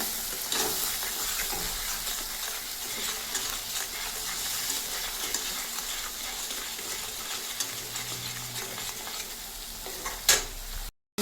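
Onions or spices fry with meat masala and chilli in a pan over high gas, a steady close sizzle and hiss with occasional stirring scrapes, no voices.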